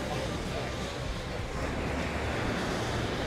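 Sea surf rolling onto the wide sandy beach at Dongtan, Pattaya, a steady broadband wash of waves with some wind buffeting the microphone, continuous and fairly close throughout.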